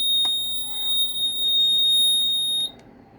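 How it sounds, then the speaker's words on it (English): A light security alarm emits a steady high-pitched electronic beep for about two and a half seconds once its battery is connected, loud and close, then cuts off abruptly. "as I connect the battery to the connector, the alarm starts beeping"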